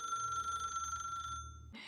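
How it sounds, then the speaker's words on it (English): A steady electronic incoming-call ringtone from a RAZ Memory Cell Phone sounds close up for about two seconds, then cuts off abruptly into a brief burst of noise. "When a contact calls the phone, the user will hear a ringtone"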